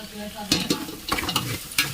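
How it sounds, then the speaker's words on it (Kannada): Chopped tomatoes fry with turmeric powder in a pan, a soft continuous sizzle broken by several sharp scraping strokes of a spoon as the mixture is stirred. "ಟೊಮೆಟೊ ಫುಲ್ಲು ಬೇಯೋವರೆಗೂ ಫ್ರೈ ಮಾಡ್ಕೊಳ್ಳಿ"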